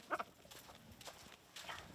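Goats in a village in Chad give a short, faint bleat near the start, followed by soft rustling and scattered quiet farmyard sounds.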